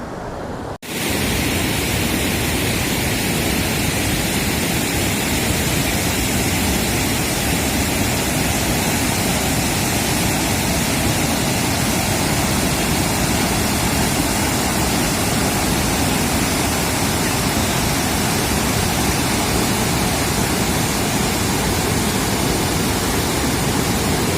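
Bhatinda Falls, a large waterfall, pours down with great force in a loud, steady roar of rushing water that fills the whole clip without a break after a brief quiet start.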